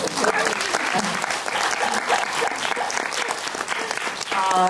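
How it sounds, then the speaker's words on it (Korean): An audience claps warmly at a Korean film screening and talk event for the movie Killing Romance, a dense burst of applause with a few voices underneath, swelling again briefly near the end. "그럼 박수 한번."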